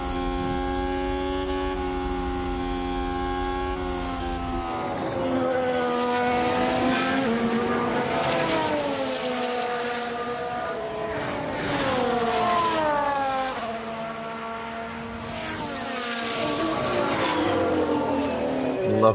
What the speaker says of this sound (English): Loving the engine sounds in this game.